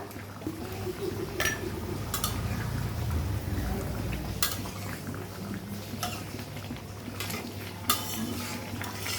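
A spoon stirs a pot of fish curry with roasted cumin paste, steady simmering sizzle under repeated sharp scraping clinks against the metal, close and fairly loud, no one talking.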